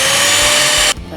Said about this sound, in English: Now I'm gonna use the mixer.